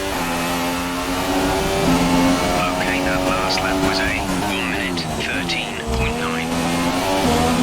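F1 2017 race car in the video game, its engine droning loud and steady with pitch shifts through gear changes and brief tyre squeals, under someone talking throughout.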